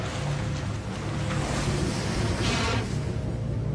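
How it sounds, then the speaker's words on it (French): Ocean liner under way at sea, a steady broadband wash of water and hull noise with a low engine drone, continuous and fairly loud with a swelling surge of spray near the end. "Les paquebots."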